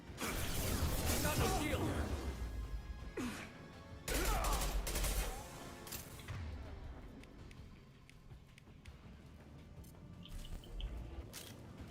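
Gunfire in the video game Mass Effect 2, loud bursts of shots and impacts early on that thin out into scattered pops, with voices talking over the action.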